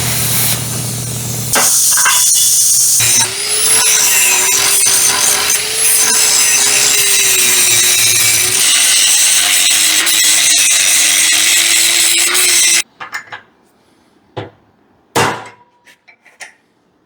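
Steel being cut to make a slot for a bracket on a truck, a loud continuous grinding and rasping cut lasting about twelve seconds, then sparse clanks and scrapes in a quieter stretch.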